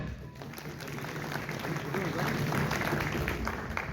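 An audience at a prize distribution ceremony applauds continuously, a dense, even wash of clapping that swells slightly. An announcer's voice carries over it.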